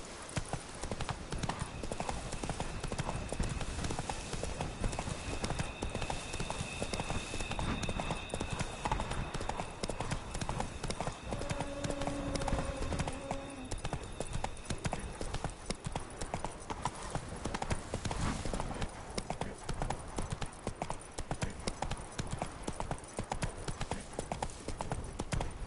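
Roach, a horse in The Witcher 3, gallops with a brisk, unbroken clip-clop of hooves that stays close and loud throughout, over a faint tonal game backdrop.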